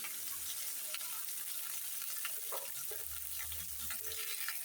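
Water poured into a pan of frying spice paste for an egg curry, a steady hissing sizzle with bubbling and a few scraping stirs, fairly quiet and close.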